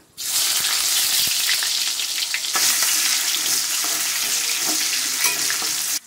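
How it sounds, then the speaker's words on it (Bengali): Nigella seeds dropped into hot oil for tempering while cooking a vegetarian Bengali paneer kaliya: a loud, steady sizzle and crackle, close by, with a few faint clicks of stirring and no talk. "এবার আমি একটু কালো জিরে ফোড়ন দিয়ে দেবো।"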